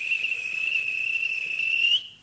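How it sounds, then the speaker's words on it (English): A railway guard blows his whistle, one long steady shrill blast held for about two seconds, loud and alone, then cut off sharply. "At last, the guard blew his whistle"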